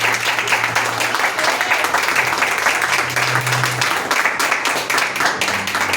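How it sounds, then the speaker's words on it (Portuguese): A church congregation claps together, sustained, fairly loud applause across the whole span with a low hum beneath it. "E as palmas vão vir agradecer só o nosso Deus"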